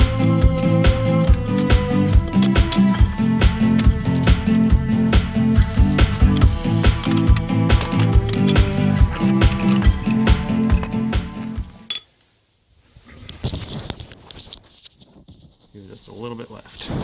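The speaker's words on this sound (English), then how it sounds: "now I can chisel that out" A chisel is hammered into the concrete around an outdoor faucet set in a concrete and rock wall. The sharp metallic strikes come close and fast in a quick rhythm, then stop, leaving faint scraping and handling sounds.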